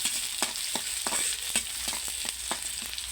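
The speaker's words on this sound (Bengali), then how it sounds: "এভাবে দিয়ে আমি পেস্টটা ভেজে নেওয়ার জন্য ওয়েট করবো" Chopped paste sizzles in hot oil in a wok, a steady close frying hiss broken by repeated scraping stirs of a spatula, with no voices.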